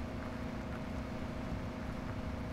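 Big Bud 1,000 horsepower tractor engine in Farming Simulator 17, a steady deep low drone under load that holds constant and fairly loud throughout with no talk.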